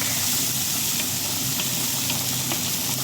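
Chicken leg pieces and garlic sauté in a hot pan for a creamy chicken leek sauce, with a continuous close, bright sizzle and hiss that stays even from start to finish.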